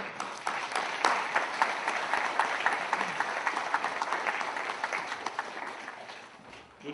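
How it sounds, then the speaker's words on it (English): An indoor audience at a Veterans Day ceremony at a VA Medical Center claps in sustained applause, dense and steady, gradually thinning toward the end. "Let's give them a round of applause."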